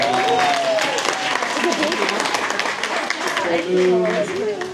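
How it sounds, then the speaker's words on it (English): A crowd at a zoo tarantula show claps in a lively round of applause, while voices call out and chatter over the clapping throughout. "Give her a round of applause."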